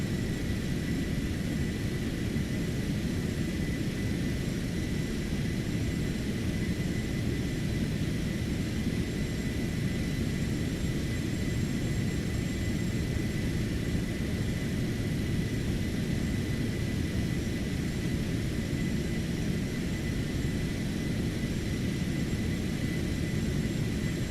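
Engines of a Cessna Citation X business jet in the X-Plane 12 flight simulator, holding a constant, dense roar with no pauses or change in level.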